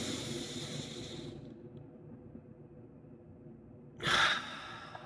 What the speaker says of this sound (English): even one deep breath